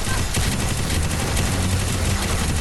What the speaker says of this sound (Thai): นอกจากลูกเตะแล้วยังมีปืนคู่อีกพี่บอล